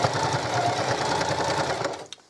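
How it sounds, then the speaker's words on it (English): A sewing machine stitching the bottom seam of a tote bag made from dollar-store drying mats, a fast, even mechanical whirr at close range that runs steadily and then stops abruptly near the end, no talk. "Now we'll stitch the bottom"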